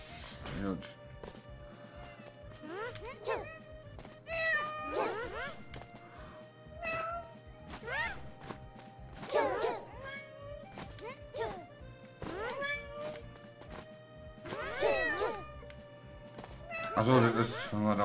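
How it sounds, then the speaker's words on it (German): A cat in the video game Hayfever meows over and over, about a dozen short rising and falling calls at an uneven pace, fairly close, with faint background game sounds. "Ich habe eine Katze."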